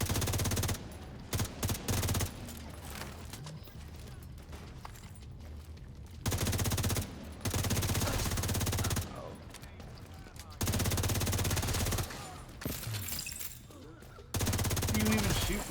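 Video game shootout with bursts of rapid automatic gunfire separated by quieter gaps, the volleys loud and sharp, with a muffled voice faintly heard between them.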